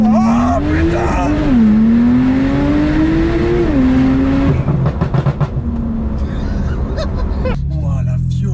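A Ferrari 488 Pista and a stage 2 Porsche Turbo S launch in a drag race: an engine revs and holds high, then a hard launch roars off with gear changes, while people exclaim loudly over it.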